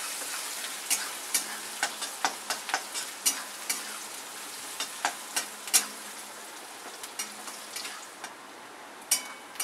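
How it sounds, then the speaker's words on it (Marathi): Onion frying in a pan until lightly reddened: steady hiss of sizzling oil with frequent sharp scraping and stirring clicks of a spatula, close up, no talking. "कांदा थोडासा लालसर करून घ्यायचा."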